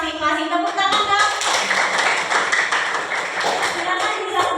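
A classroom group claps together after being named into teams, a dense burst of many hands starting about a second in and carrying on steadily, with voices mixed in at the start and beneath the applause.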